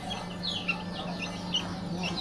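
Chickens cluck repeatedly in a rural village during the morning in Xepon, Laos, with short overlapping calls at moderate distance over a steady low background hum.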